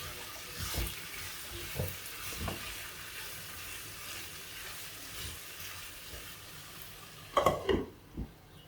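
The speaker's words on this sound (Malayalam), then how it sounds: "ആവശ്യത്തിന് ഉപ്പും കൂടി ചേർത്ത് നമുക്ക് നന്നായിട്ട് ഇളക്കി യോജിപ്പിച്ച് അടച്ചു വയ്ക്കാം." Potato stir-fry with salt being stirred in a pan, a soft steady sizzle under scattered scraping taps, with a brief burst of louder spatula clatter near the end.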